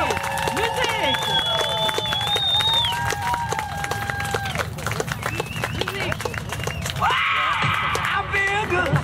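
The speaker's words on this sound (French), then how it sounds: "On les applaudit!" Wedding guests clap and cheer for a newly married couple, a dense burst of applause under a loud announcer's voice, with music rising near the end.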